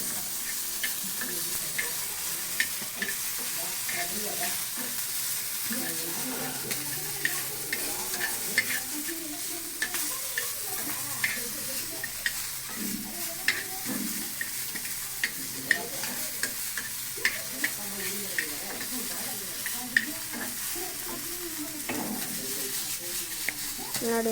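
Ingredients roasting in a little oil in a pan give a continuous low sizzle, while a spoon scrapes and stirs through it over about five minutes of cooking and a voice talks faintly in the background.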